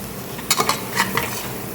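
Whole spices (bay leaf, cloves, a few chillies, cinnamon and cardamom) stirred in a cooking pot for mutton, giving a few brief scraping and clinking strokes over a faint sizzle, close by.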